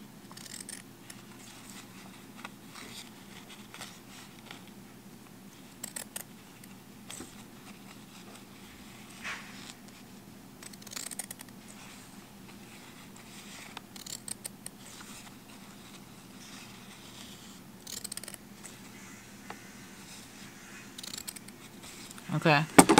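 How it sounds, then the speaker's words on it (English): Scissors cutting slits into denim for blue jean earrings, heard as faint, sporadic snips and crunches through fabric over a low room hum, with a louder handling noise at the end. "I think I made my slits too short. So I'm just going to cut some more."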